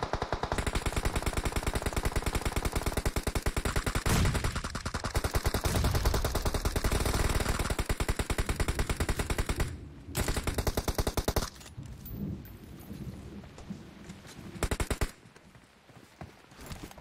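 Sustained automatic gunfire in PUBG Mobile, loud and dense rapid bursts for about ten seconds, then sparser shots and quieter stretches with a few more bursts near the end.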